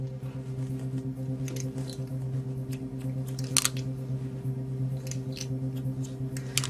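Scissors snipping hair during a rounded graduation haircut, a few faint, crisp metallic snips at irregular intervals over a steady low hum, close by and with no talk.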